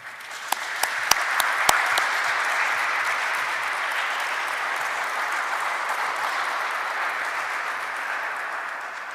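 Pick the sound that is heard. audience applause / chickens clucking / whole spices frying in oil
audience applause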